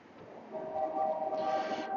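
A distant freight train rolls past beyond a suburban neighborhood, its faint, steady tonal drone rising slightly and holding for about two seconds under outdoor background noise, with no voices.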